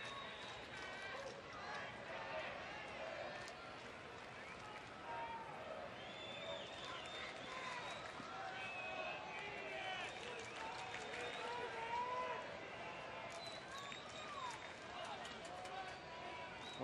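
A baseball stadium crowd of around 22,450 chants for Ian Kinsler during a Rangers home game against the Angels, a broad sustained roar with rhythmic rises, under continuous play-by-play commentary.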